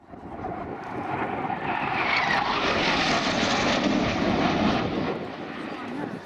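Airshow aircraft at Shoreham passing overhead, a broad sustained engine roar that swells and holds steady over several seconds, with faint voices in the background.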